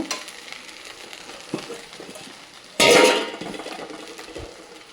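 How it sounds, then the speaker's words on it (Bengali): Fried rice with vegetables stirred in a hot pan, soft scraping and sizzling, then a sudden loud burst of frying and clatter that slowly settles, close by. "এবারে ভালো করে মিক্স করে নেব, তাহলেই আমাদের ফ্রাইড রাইস তৈরি হয়ে যাবে।"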